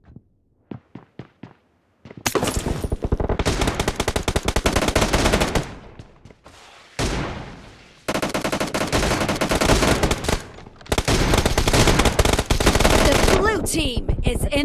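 Rapid automatic gunfire in a mobile battle royale team deathmatch game, with a few sparse single shots at first, then long loud sustained bursts broken by brief pauses.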